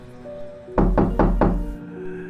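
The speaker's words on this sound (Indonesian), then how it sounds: "Suara ketukan terdengar di pintu kamar mereka." Three loud, evenly spaced knocks on a bedroom door in a horror story, sharp and close, with a quiet music bed underneath.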